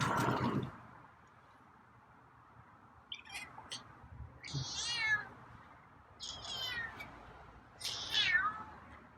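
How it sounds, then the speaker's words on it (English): A feral cat gives several drawn-out, wavering meows, close and fairly loud, separated by short quiet gaps, with a brief rustle at the start and no speech. "Meows are a little different tonight."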